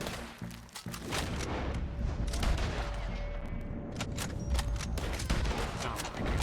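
Bursts of gunfire in Red Dead Redemption 2, a rapid volley of loud, sharp shots cracking over a rumbling background, with a brief lull before more shots.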